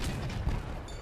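A tank cannon fires in Crossout amid a dense rumbling battle din, with one sharp boom punching through the steady mechanical noise.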